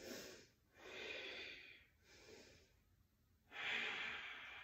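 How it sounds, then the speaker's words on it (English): Deep, slow breaths during a yoga pose, four long airy exhales and inhales close to the ear, the last one the strongest, with brief quiet gaps between and no talk. "A couple more deeper J breaths"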